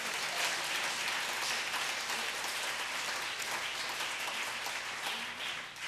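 A church congregation claps together for God during a Korean sermon on bearing fruit, a dense, steady wash of applause that fills the room at full strength for several seconds before easing slightly at the end.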